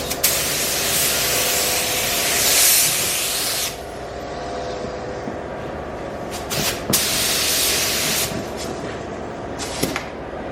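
Spray gun painting Mercedes SL600 car parts in a paint booth, a loud steady hiss for several seconds, then a quieter background drone with brief bursts of spraying.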